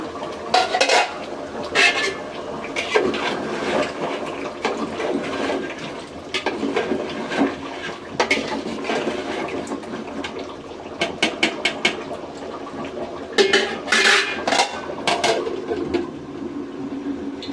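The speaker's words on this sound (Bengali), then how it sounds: "সাথে ভালো করে মাংসটা মিশিয়ে দিতেছি।" Fresh beef for tehari is stirred and mixed in a pot, with repeated metal scrapes and clanks of a spoon against the vessel, close and steady, and a wet sizzle underneath.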